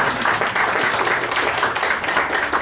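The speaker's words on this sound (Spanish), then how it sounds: "un aplauso para Wendy" Steady applause from a panel discussion audience, many hands clapping continuously for a few seconds at an even level.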